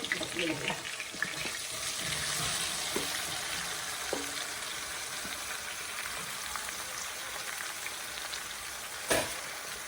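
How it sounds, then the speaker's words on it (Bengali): Mango pieces sizzle quietly in hot mustard oil for pickle with a faint, steady hiss, broken by a few clinks and a sharp knock near the end. "এই পর্যায়ে আমি আমগুলো দিয়ে দেবো"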